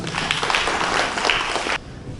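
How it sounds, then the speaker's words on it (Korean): Audience at a Korean diaspora policy forum applauds a presenter taking the stage, a steady broadband patter of clapping that stops abruptly near the end, with no talking. "박수 부탁드리겠습니다."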